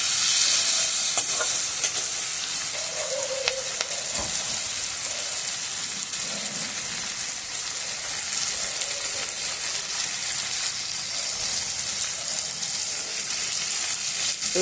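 Green chillies and vegetables stirred in a hot pan with oil, a steady, close sizzle and fry hiss running throughout with occasional spatula scrapes.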